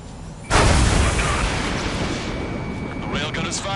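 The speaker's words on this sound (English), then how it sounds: "The railgun is firing again." A railgun fires in the Ace Combat flight game: a sudden loud, booming broadband blast that hangs on as a sustained rumbling roar. Faint talk and high whining tones sit under its tail.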